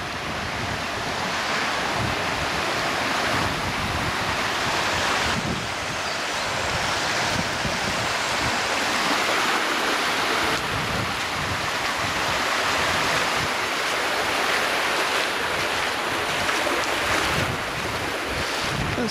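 Floodwater covering the main road in Bridgewater, Somerset, with cars driving through and splashing it up; a steady, loud rushing wash of water and spray fills the scene continuously, with wind buffeting the microphone.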